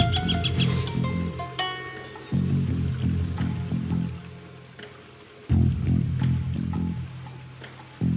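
Bird calls chirp in Shadow Tactics: Blades of the Shogun on the Nakasendo Road level, a few bright twittering calls clustered early and then scattered over a steady droning musical and ambient bed.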